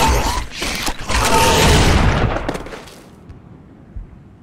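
A loud burst of gunshot and booming impact in Serious Sam 4, a heavy crash that swells for about two seconds then decays into quieter rumble, with one faint thud afterward.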